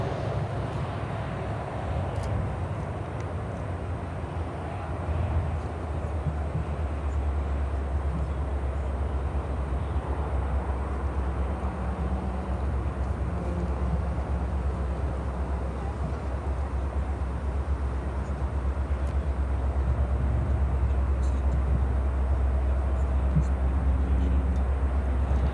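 An airliner at Chicago O'Hare rolls down the runway for takeoff, a steady broad roar with a low rumble that holds evenly at a distance, under faint radio chatter and voices.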